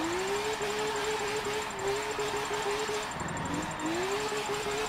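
A BMW race car engine in Forza 7 screams near redline with a sustained high whine, briefly dropping at a shift before climbing back to a held high pitch, loud and alone.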